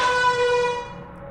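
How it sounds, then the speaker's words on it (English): A single loud air horn blast in a video game, with a rich buzzing tone that sustains, then fades and cuts out after about a second. "I have an air horn."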